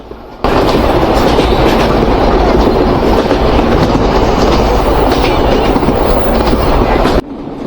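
Loud, steady rumble and rattle of the Kapotakkho Express passenger train running between Khulna and Rajshahi, Bangladesh, starting abruptly and running for several seconds before cutting off.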